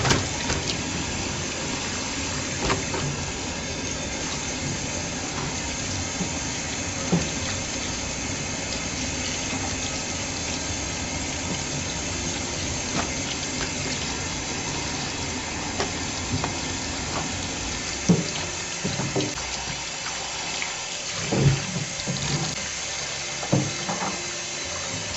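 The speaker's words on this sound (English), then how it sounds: "This time we are just going to rinse. Going to rinse our clothes." Hand-washed clothes being rinsed in water, with a steady wash of splashing and sloshing throughout and a few sharper wet slaps and swishes toward the end.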